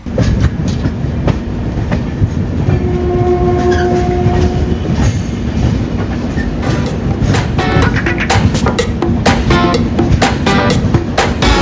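A Mumbai LTT to Kakinada Port Express train rumbles steadily along the tracks close by, wheels clattering in rapid rhythm, with a brief tonal horn-like whine partway through.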